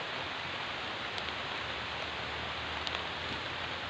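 Heavy rain pours steadily during a typhoon in the Philippines, a dense, even roar of downpour with faint scattered drop hits, unbroken and close for the whole stretch.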